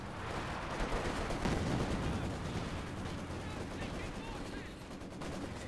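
Infantry guns firing against German defenders in the video game Company of Heroes 2: steady machine-gun and rifle fire rattling through a loud, continuous battlefield din.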